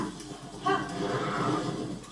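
A horse in The Legend of Zelda: Tears of the Kingdom gives a short whinny, fairly faint, over a soft background hum.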